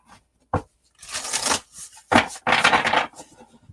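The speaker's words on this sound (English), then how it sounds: "Give the cards a good shuffle-uffle." Tarot cards are shuffled by hand in several quick riffling and sliding bursts separated by short pauses, close and fairly loud with no talking.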